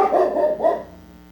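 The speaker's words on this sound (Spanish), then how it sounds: "El perro que ladra porque le encanta ladrar." A dog lets out two close, loud barks in quick succession, then falls quiet.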